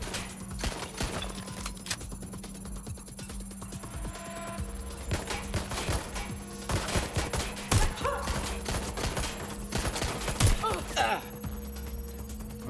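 Gunfire in the video game Watch Dogs Legion, repeated sharp shots and bursts scattered across the stretch amid game ambience, moderately loud, with occasional voices.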